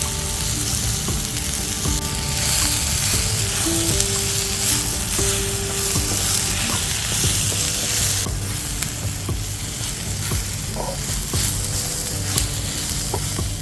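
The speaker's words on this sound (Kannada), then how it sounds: "ಚೆನ್ನಾಗಿ ಫ್ರೈ ಮಾಡ್ಕೊಳ್ಳಿ ಇದನ್ನ." Chicken curry masala with grated coconut fries over a wood-fired stove, a loud, steady sizzle with constant stirring and scraping close by, no voices.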